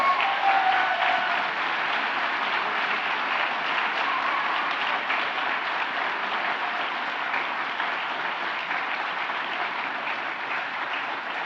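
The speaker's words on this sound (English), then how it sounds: "show everybody how much they mean to you by a big round of applause" A big round of applause from a graduation ceremony audience for graduates' families, a dense, continuous roar of many hands clapping in a large hall, steady and loud throughout.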